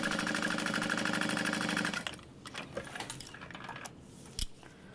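A sewing machine stitching a zipper onto bag lining at a quarter-inch seam allowance: a rapid, even mechanical whir for about two seconds, then it stops and leaves quiet handling clicks and a sharp tap.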